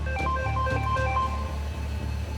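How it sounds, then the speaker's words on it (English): Telephone handset being dialed to place a call, a run of short electronic tones and beeps over a steady low hum, close and fairly quiet with no talking. "I was just ringing to ruin your Friday because Rennie Young just rang me and told m"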